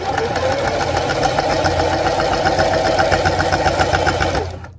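Sewing machine running steadily to stitch down a French seam on a pillowcase, a fast, even mechanical whir with rapid needle rhythm, close and loud, slowing to a stop at the end.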